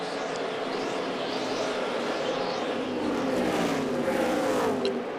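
NASCAR stock cars roar around the track during the 2009 Auto Club 500 at California, a continuous loud, layered engine drone with cars sweeping past, swelling slightly toward the end.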